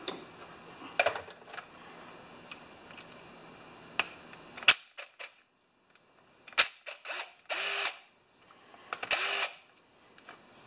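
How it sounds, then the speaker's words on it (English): An impact wrench (rattle gun) works on a non-running mower part, giving several short mechanical bursts and rattling clicks. The bursts are separated by quiet gaps and are loudest near the end. "we might have to use the rattle gun"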